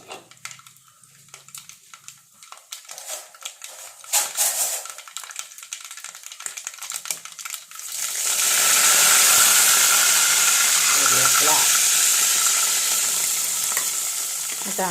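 Mustard seeds hitting hot oil for a jackfruit stir-fry: scattered clinks and light rustling at first, then a sudden loud, dense sizzle that swells and stays steady to the end, close up and without speech.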